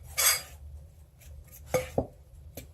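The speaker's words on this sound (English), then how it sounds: "I like to use just a regular fork to start mixing this together" A regular fork clinks and scrapes against a bowl while mixing ingredients in a kitchen with a wood cook stove. It gives a few sharp metallic taps and short scrapes over quiet background hum.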